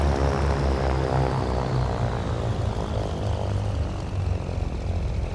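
A propeller aircraft engine throttled back to about 1,000 RPM gives a loud, steady, close droning hum with a faint, slowly falling whine. No one speaks.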